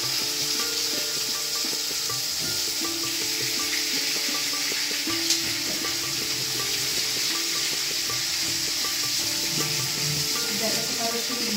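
Hilsa fish sizzles in a pan for mustard hilsa, a steady, fairly loud frying hiss with occasional stirring or scraping noises, while someone speaks faintly in the background.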